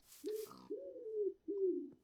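A dove cooing in a modded Minecraft game: three clear, low, drawn-out coos in sequence, the middle one longest, heard close and alone.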